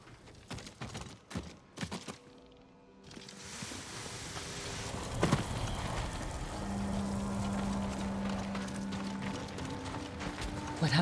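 Horse hooves clip-clop in the samurai video game Ghost of Tsushima, light irregular steps and clicks at first, then a fuller mechanical rumble with a steady low hum running underneath.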